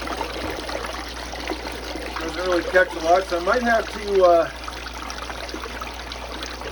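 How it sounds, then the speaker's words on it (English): Water flowing down a sluice onto a VDR mat, a continuous rushing trickle that holds steady under someone talking close by. "where the water comes in, slopes down and just pounds the first row of the vortexes and the first drop riffle."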